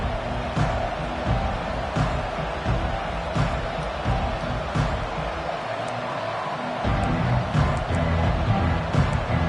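A football stadium crowd roars in a dense, sustained wall of cheering and noise, loud throughout with brief thumps.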